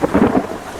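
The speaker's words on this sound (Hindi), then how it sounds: "बारिश और तूफान इतना तेज था" A brief burst of thunder rumbles over heavy storm rain, the rolling boom swelling and easing within a second while the downpour hisses steadily underneath.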